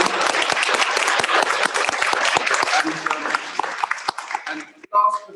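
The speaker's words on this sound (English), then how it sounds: "So perhaps we could have a really big round of applause as a thank" Big round of applause at a live school assembly about bug hotels, many hands clapping in a dense, loud burst that slowly thins out, with a voice starting up at the end.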